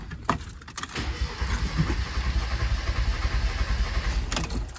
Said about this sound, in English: You can actually hear how it cranks over different when there's a dead cylinder too.